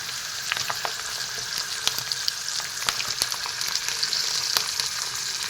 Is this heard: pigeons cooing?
no